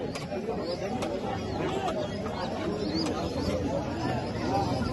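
Pigeons coo at a busy pigeon and bird market in Narsingdi, Bangladesh, soft low calls repeating under steady crowd chatter and nearby talking.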